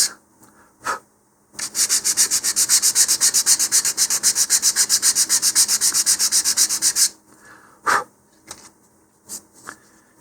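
Hand sanding on wood: a steady run of quick, rhythmic rasping strokes for several seconds, close and loud, then a few isolated scrapes.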